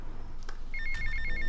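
A mission phone call ringing in a Grand Theft Auto game, a repeating electronic ringtone in quick pulsing bursts that starts partway through and continues over quiet game background.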